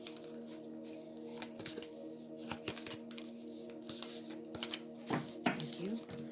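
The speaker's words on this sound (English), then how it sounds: "Not easy to shuffle at all." Soft riffling and flicking of playing cards being shuffled repeatedly, quiet and close, with a steady low hum underneath.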